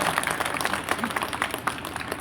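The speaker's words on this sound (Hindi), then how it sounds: "माननीय निशिकांत जी के लिए एक बार जोरदार तालियां।" A crowd applauds steadily at a political rally in Tarari marking Jagdev's birth anniversary, a dense, even wash of clapping that holds at moderate loudness for the full stretch.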